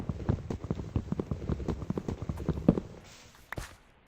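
Horse hooves clip-clop in a rapid, steady rhythm in the Minecraft video game, loud and close for about three seconds before trailing off into a couple of final faint steps.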